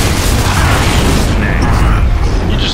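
A loud grenade explosion in Gears of War 2 co-op combat, one heavy, sustained low boom that fills the whole moment and slowly tails off, close and dominant.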